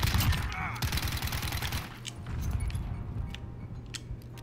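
Uzi bursts in the Modern Warfare search-and-destroy mode crackle in rapid clusters during the first two seconds, then thin into scattered sharper shots and clinks over a low rumble.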